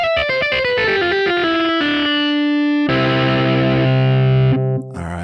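A distorted electric guitar built in Logic Pro X plays a quick descending run, then holds long ringing saturated notes, loud and upfront.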